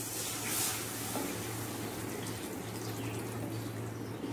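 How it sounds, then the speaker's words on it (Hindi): A bowl of water is poured into a cooking masala gravy for an Andamani fish biryani, a steady close splashing pour with sizzle under it, lasting the whole moment. "पहले थोड़ा पानी डालेंगे इसमें एक कटोरा।"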